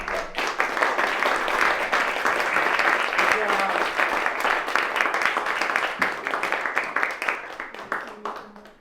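Audience applause at a live talk event, a dense, loud, sustained clapping from a crowd lasting several seconds before tapering off, with voices mixed in underneath.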